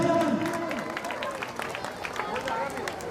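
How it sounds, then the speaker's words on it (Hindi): Applause and scattered cheers from a crowd welcoming a guest at a local gathering, close and fairly loud, with a voice speaking over the clapping at the start. "अमित खरविंदा, जोरदार तालियां भाई"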